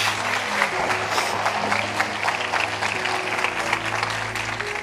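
A church congregation applauding at a Portuguese-language worship service, steady dense clapping throughout with sustained musical tones underneath, at moderate level.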